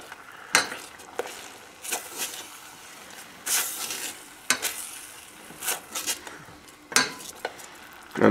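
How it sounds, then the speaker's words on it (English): Sweet and sour sauce is stirred in a pot as it comes to a boil: faint, soft scraping strokes of a spoon against the pan repeat every second or so over a low background hiss. "really stay with it at this point and stir constantly"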